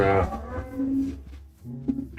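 A Minecraft cow lets out several low, drawn-out moos close by at moderate loudness, separated by brief pauses, with no speech over them.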